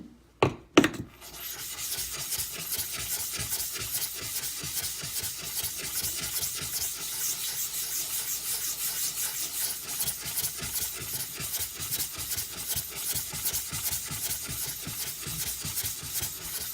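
A hard Imanishi 400 grit whetstone is scrubbed to clear built-up residue, making a steady rhythmic rasping rub of quick repeated strokes after a few sharp knocks at the start.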